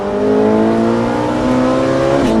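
A Ferrari 458 engine revs up steadily on a driving course, its pitch climbing as it accelerates out of a bend, loud and close with no voices.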